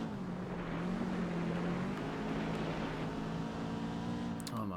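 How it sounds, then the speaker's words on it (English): A boxer engine car in Gran Turismo 4, heard as a steady, loud droning engine note that holds on throughout with sustained harmonics, with a brief high-pitched burst near the end. "I really do like this engine sound. It's very boxery."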